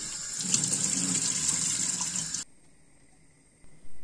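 Chicken wings are rinsed under a running kitchen tap, a steady close splashing rush of water that cuts off abruptly partway through, leaving near silence before a brief bump of noise returns.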